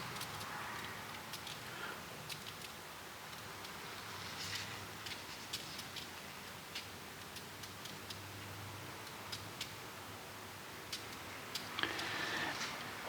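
Cleaning solution fizzes and crackles faintly on a Victorian fireplace, a soft continuous patter of tiny irregular ticks and pops, close but quiet with no voices.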